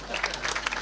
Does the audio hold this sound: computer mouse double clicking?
no